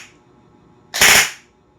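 An upgraded Amoeba Warthog airsoft gun firing a single short, sharp burst on full auto, loud and close, with quiet surroundings before and after.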